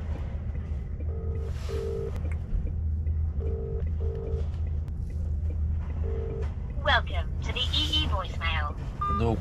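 A phone busy signal answers a call to a trucking company, short mid-pitched tone bursts repeating at an even cadence over the steady low rumble of a truck cab; a voice speaks near the end.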